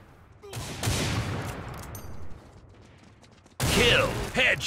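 Gunfire in the online shooter Line of Sight: a couple of loud, bursting volleys, one near the start and another sharper burst near the end, separated by a quieter stretch of mechanical clatter.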